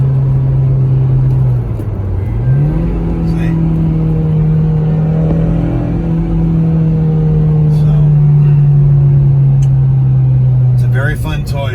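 A 2006 Mazda Miata LE with a factory removable hardtop cruises near 70 mph at about 3,200 rpm, its steady engine drone dipping briefly during a downshift before settling back into an even, loud cabin hum.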